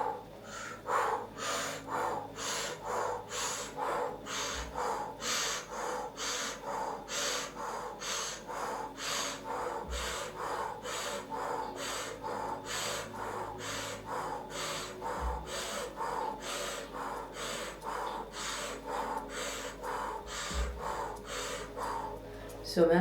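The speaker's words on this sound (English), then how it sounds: "And now let's add the breathing." Rhythmic breathing during a Kundalini kriya exercise: steady, forceful breaths in and out through the nose, repeating quickly and evenly for the whole stretch. A low hum sounds in the background.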